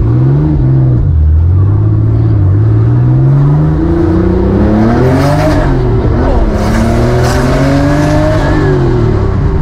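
Porsche 911 930 Turbo engine accelerating hard, loud and close, with rising and falling revs through gear changes and a faint high turbo whine, briefly under a voice.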